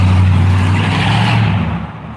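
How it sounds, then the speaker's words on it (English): A loud, rumbling truck passes close by on a downtown Sarasota street, its heavy engine drone filling the clip before fading slightly at the end. "As soon as the noisy truck goes by."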